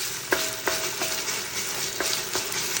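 Onion and tomato paste fry in oil in a pot with a steady close sizzle, broken by several sharp clicks of a utensil stirring against the metal.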